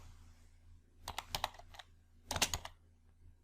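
Typing on a computer keyboard, two short bursts of rapid key clicks separated by a pause, close and fairly quiet against a faint low hum.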